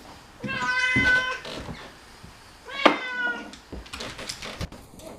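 A cat meows twice, drawn-out and complaining, with a hiss of spraying water and soft handling noises between the cries.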